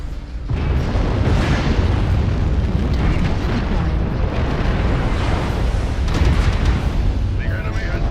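Artillery strikes land in a MechWarrior game, a sustained roar of heavy explosions and rumbling blasts that starts abruptly and stays loud throughout, with sharper crackling bursts mixed in.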